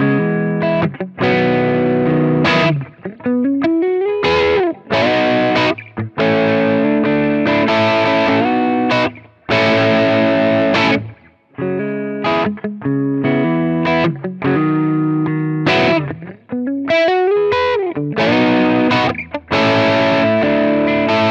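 Squier Affinity Starcaster electric guitar played through overdrive, loud distorted chords and single-note runs with bends and short pauses, continuing for about twenty seconds without talking.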